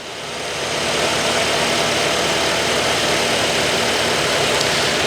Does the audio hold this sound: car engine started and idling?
yes